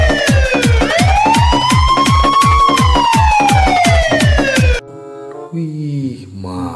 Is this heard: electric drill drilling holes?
no